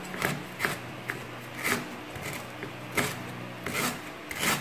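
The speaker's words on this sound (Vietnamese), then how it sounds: "các bạn băm thật nhỏ cho mình" A knife rapidly minces aromatics including galangal against a wooden board, a steady rhythm of close, dull taps.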